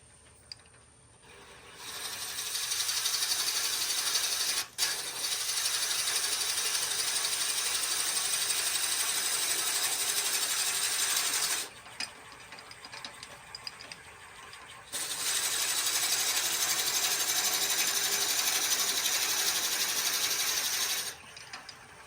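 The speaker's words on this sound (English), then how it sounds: "We got our Forstner bit in here, and we're just going to start to drill through this bottom part" A loud, steady mechanical whir and grinding drone as a Forstner bit drills into walnut on a lathe at around 400 rpm, running in two long stretches broken by a short quieter pause, with no talking.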